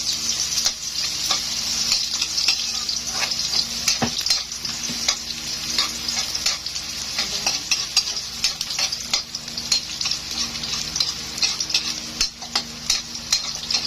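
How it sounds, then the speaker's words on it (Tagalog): Ginger sautéing in a pan for Bicol kinunot na pagi, a stingray dish cooked in coconut milk. A steady close sizzle runs throughout, with frequent scraping stirs and light clicks, and no talking. "Gisa-gisahin na natin konti bago natin ilalagay yung pangalawang gata."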